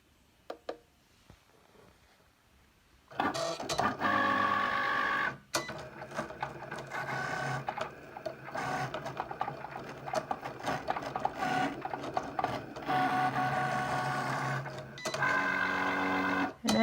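A Cricut cutting machine slices bonded fabric, starting with a few faint clicks, then a steady mechanical whirring and rattling of the carriage that runs for over ten seconds with a brief pause partway through.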